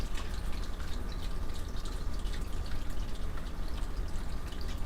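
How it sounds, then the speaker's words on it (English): Steady trickling and dripping water from a cat water fountain runs continuously, a soft close-up patter of droplets with constant flow and no voices. "You are hearing this as a water fountain for the cats"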